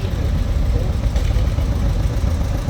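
A restored 1957 John Deere 720 propane standard tractor runs at a tractor parade at a threshermen and collectors show, giving a steady, close, low idling rumble.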